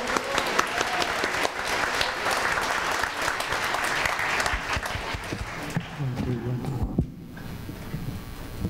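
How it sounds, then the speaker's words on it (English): A jamboree crowd applauds a birthday in the audience with loud, dense clapping that holds steady and then thins toward the end amid some crowd noise. "Let's give a round of applause for that."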